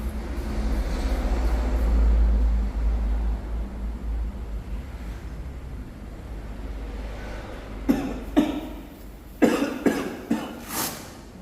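Several harsh coughs burst out in an uneven series near the end, loud and close, after a stretch of low rumbling background noise.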